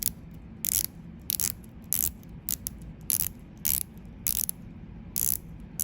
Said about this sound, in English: The bezel, because this is a diver, it's a unidirectional.